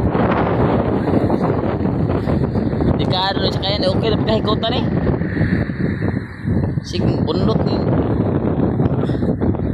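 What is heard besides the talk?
strong wind blowing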